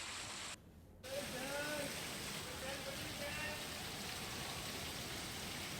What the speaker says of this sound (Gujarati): અંબાજી મંદિરના દ્રશ્યો કે જ્યાં ધોધમાર વરસાદ ખાબક્યો છે